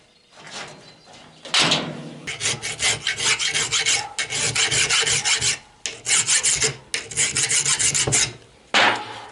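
A hand file rasps against a chrome-plated door handle being fitted to a Citroën Traction 11B door, with loud, close back-and-forth strokes in bursts and short pauses, and no talk.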